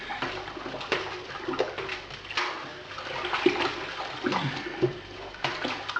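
Beer wort for a partial mash pale ale is mixed in a pot, giving an uneven, nearby sloshing and swirling of liquid in repeated strokes, moderately loud with no talk.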